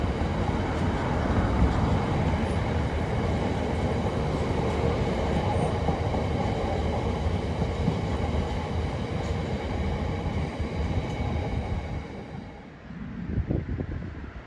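Freight train from Washford Heath passing on the up main line at Clay Cross North Junction, with a loud continuous rumble of wagons and wheel noise and some wind buffeting, fading out at the end.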